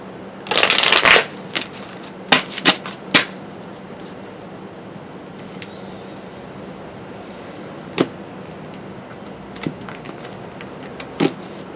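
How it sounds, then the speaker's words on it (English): A deck of tarot cards is shuffled up close during a reading. One loud riffling burst comes first, then sparse sharp card slaps and taps over quiet room tone. "As I move all these cards around."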